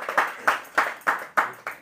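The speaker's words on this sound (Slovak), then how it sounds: "To si zaslúži potlesk" A few people clap at a Slovak talk show recording, giving about six sharp, evenly spaced claps that ring close and fairly loud with short gaps between them.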